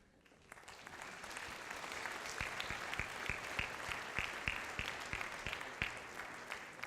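An audience applauds at a National Honor Society induction ceremony, the clapping swelling quickly into sustained, dense applause filling a large hall, with a few louder individual claps standing out.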